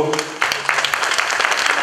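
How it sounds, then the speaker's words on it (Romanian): An audience at an awards ceremony honouring local personalities applauds, clapping that swells in after a brief moment of low background sound and continues fairly loud and close. "Să aplaudăm mai cu inimă pentru"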